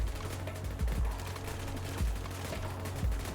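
A Gatling tower in the tower-defense game Rift Riff fires steady, evenly spaced thumping bursts over a dense, constant wash of battle noise, staying loud and unbroken throughout.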